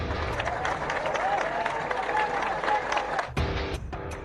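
Crowd applause at JNU after a demand is made: a dense, steady patter of clapping with voices mixed in, thinning abruptly about three-quarters through before continuing more sparsely.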